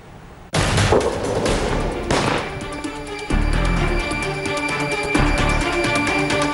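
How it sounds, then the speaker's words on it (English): Gunfire rings out along the Line of Control in Rajouri, Jammu and Kashmir: loud, continuous bursts of shots with heavier booming reports, dense and sustained without any talk. "Unprovoked firing at the line of control in Jammu and Kashmir's Rajouri, taking a massive humanitarian toll."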